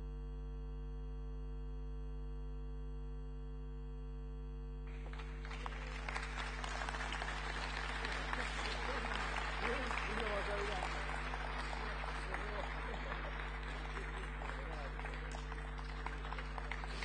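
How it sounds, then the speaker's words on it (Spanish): Audience at an Aapresid 2014 anniversary celebration applauding award recipients, clapping that starts suddenly partway through and continues at moderate level over a constant electrical mains hum, with the opening seconds holding only the hum. "Un fuerte aplauso para todos ellos."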